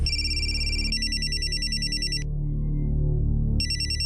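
A telephone ringing unanswered in a village scene: repeated electronic trilling rings in bursts with a short gap, loud and close, playing over steady background music and no speech.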